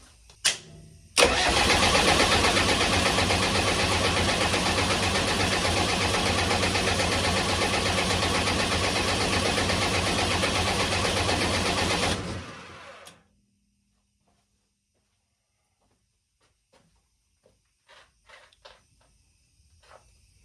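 A Kubota V2203 diesel engine with a leaking injection pump cranks briefly, then catches and runs loud and steady for about eleven seconds before cutting off, followed by faint clicks and knocks.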